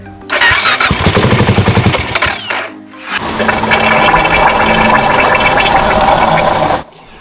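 A BMW engine cranks with a rough, stuttering rhythm for about two seconds, pauses briefly, then catches and runs loud and steady close by before cutting off abruptly, with no talk over it.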